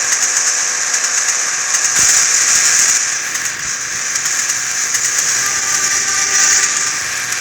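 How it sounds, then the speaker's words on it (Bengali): A train runs at speed, with a continuous loud rushing rumble and rattling of the carriages, steady throughout with faint clanking and no voices. "সো গাইস ট্রেনটা কিন্তু ভালোই চলছে, আমাদের অনেক স্পিড"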